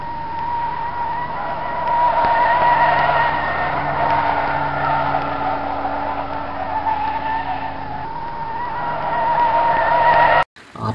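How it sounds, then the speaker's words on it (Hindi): A car in GTA V drifting with the handbrake gives a long, loud tire squeal over a revving engine, holding for several seconds before cutting off abruptly. "आप लेफ्ट या फिर राइट साइड किसी भी साइड मोड़ लो तो अपने आप ड्रिफ्ट हो"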